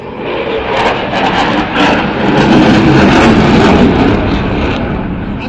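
A jet aircraft at the Blackpool Airshow 2022 roars loudly overhead as it flies an uncrowd loop, a broad, sustained engine rumble swelling and holding with no voices.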